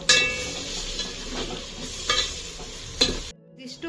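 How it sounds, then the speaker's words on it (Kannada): Garam masala, chilli powder and coriander powder fry in a pan for paneer biryani, a steady close sizzle broken by a few scraping stirs, with no talk over it. "ಇದಿಷ್ಟು ಆ್ಯಡ್ ಮಾಡಿಕೊಂಡು ಚೆನ್ನಾಗಿ ಫ್ರೈ ಮಾಡ್ಕೊಳ್ಳೋಣ"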